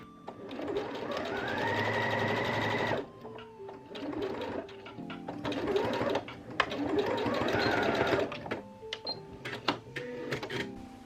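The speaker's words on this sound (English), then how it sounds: "you always want to sew your darts from the widest end to the narrowest end" A sewing machine stitches darts on a large-collar blouse, running in steady whirring bursts with brief stops between seams, close and alone.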